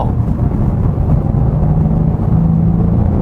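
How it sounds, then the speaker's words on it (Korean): A Ford Mustang's engine and exhaust drone in normal exhaust mode while driving, a low steady rumble heard from inside the car, continuous and fairly loud with no speech. "근데 일반 배기를 키니까 앞에 엔진음에서 이제 오는 느낌, 앞쪽에서 전달되는 그런 느낌을 받거든요"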